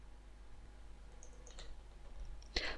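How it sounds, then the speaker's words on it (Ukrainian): A computer mouse is double-clicked while choosing components in window-calculation software. The clicks are faint and quick near the end, against a quiet background hum. "Вибір комплектуючих відбувається подвійним кліком миші на необхідному варіанті."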